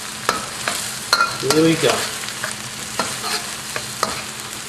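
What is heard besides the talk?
aromatics frying in a wok for eel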